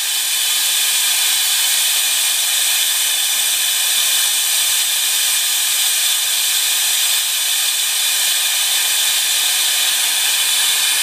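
An air compressor runs steadily with a loud, continuous hiss, in a workshop where Suzuki DRZ-400SM rear brake work is under way, with no pauses or voices.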